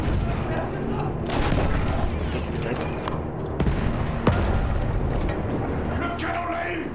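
Field gun artillery fire in the video game Battlefield 1: heavy booms and blasts burst out repeatedly over a dense, continuous battlefield din of gunfire and rumble, loud and close, with a few sharp impacts standing out.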